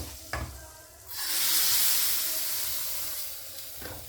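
Loud, steady sizzling of nigella seeds, cumin and Deggi red chilli hitting hot oil for a tempering bursts in after a second of quieter kitchen noise, with a few soft clinks near the start and end.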